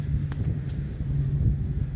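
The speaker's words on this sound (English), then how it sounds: "the wind is blowing 15, 20 knots. Got a big windy day." Strong wind of 15 to 20 knots buffets the microphone in a steady low rumble, with no other distinct sounds.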